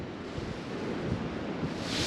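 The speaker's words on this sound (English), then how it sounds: "we've got a lovely mild wind front, windy stormy front in at the moment" Wind and waves on a lake bank during a windy, stormy front while carp fishing: a dense, steady roar of gusting wind buffeting the microphone, with lapping water rushing underneath, and no voices.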